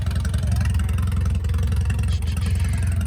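An Allis tractor engine runs steadily at a heritage tractor show, a loud, close, even low rumble with a faint clattering beat and no voices.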